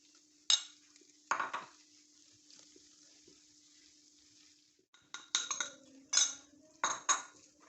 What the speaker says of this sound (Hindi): इसको मुसलसल चम्मच से जो है ना मिक्स करते रहना, ताकि ये जो है ना बिल्कुल स्मूथ बन जाए